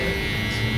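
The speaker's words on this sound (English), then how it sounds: "This clipper is still good on the head." An electric hair clipper buzzing close up during a haircut, a steady loud hum throughout the short moment.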